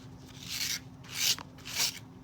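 Fabric Barbie clothes are scrubbed with rubbing alcohol to lift printed decals. Three close, raspy rubbing strokes sound in steady succession over a faint low hum, with no talking.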